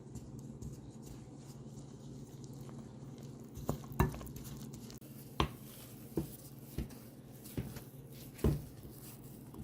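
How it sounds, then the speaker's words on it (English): Wet and dry ingredients for keto biscuit dough get mixed in a bowl, a soft scraping stir with several sharp knocks of the utensil against the bowl, recorded close and quiet. "I'm just going to combine our wet ingredients with our dry ingredients. And I'll mix this properly to combine"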